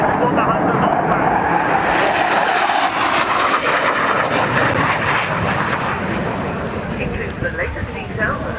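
Hawker Hunter jet roaring through a flying display at the RIAT airshow, a loud sustained engine rush that sweeps past and slowly fades, with a public address announcer talking over it.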